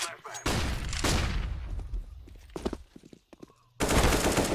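Close, loud gunfire from the video game CS:GO on the Cache map: a sustained burst of shots, then a few sharper cracks, then another heavy burst, with a voice talking over it.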